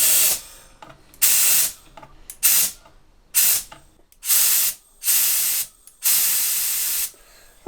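Low-pressure air from a powder coating gun fed by a compressor hisses in a series of short sprays, about seven bursts of roughly half a second each, separated by brief gaps with faint clicks.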